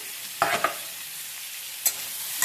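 Teasel gourd fries in a pan under a soft, constant sizzle, broken by a few short scraping clacks from a spatula as it is stirred; nobody speaks.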